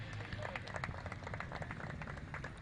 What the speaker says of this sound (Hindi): अवधूत के लिए तालियां बजाइए.